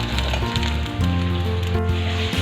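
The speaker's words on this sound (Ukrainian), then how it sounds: "Підготовлену картоплю викладаємо на розігріту сковороду з жиром. Обсмажуємо картоплю до золотистої кірочки." Potatoes fry in hot fat in a skillet, a steady close sizzle with crackling spatter and a low hum running underneath, continuous and even throughout.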